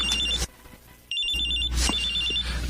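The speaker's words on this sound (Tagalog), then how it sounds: "May tumatawag sa cellphone ko." A cellphone rings with an electronic ringtone in repeated bursts, a brief pause between them, close and clear with no talk.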